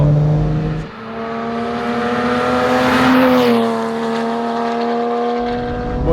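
Porsche Boxster S with a freed-up exhaust revving hard, a loud harmonic engine note climbing to a peak and sweeping back down, rich and racy like a GT3, close and alone.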